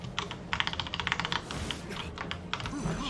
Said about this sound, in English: Not sure how loud my keyboard is right now